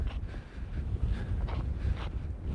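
Outdoors, wind buffets a microphone in a low, uneven rumble with gusting surges that persist throughout, with no clear talk over it.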